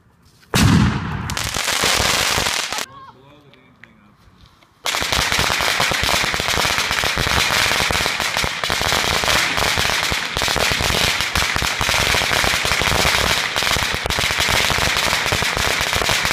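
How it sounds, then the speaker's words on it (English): A fireworks mortar explodes, with a loud blast followed by a dense, sustained crackle of bursts. A short quieter gap comes early on, then the crackling runs on steadily and close. "Oh, it's a mortar."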